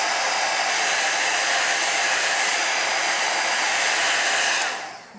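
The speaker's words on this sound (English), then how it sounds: "Now you're going to take your heat tool" A heat tool blows a steady, loud broadband whoosh while drying freshly stamped paint on a background, running alone and unbroken before cutting off abruptly near the end.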